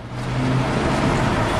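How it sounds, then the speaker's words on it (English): City bus number 134 pulling in at a stop, a steady, fairly loud engine rumble with a low drone that holds throughout, no talk. "Here comes the bus, but it happens to be the 134"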